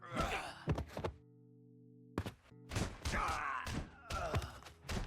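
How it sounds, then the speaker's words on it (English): A run of heavy, punchy thuds and whacks in quick clusters, with a brief pause partway through, loud and close like game combat hits. "Then I added some punch and impact sounds to make it feel more satisfying."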